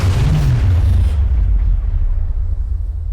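A distant explosion shakes the walls of a castle, a loud deep rumbling boom that rolls and slowly decays, heard alone with no voices.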